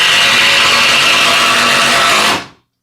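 A power drill drives screws into wood while building record shelves, one loud continuous whirring burst that runs for about two seconds and then cuts off abruptly.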